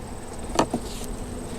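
Bees buzz inside a hive box being checked before winter, a low, steady hum held close throughout, with a brief sharper buzz as one flies near.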